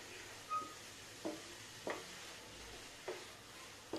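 A spoon stirs a black grape and fresh coconut burfi mixture in a pan as it cooks down, giving about six faint, evenly spaced scraping strokes over a quiet low hiss.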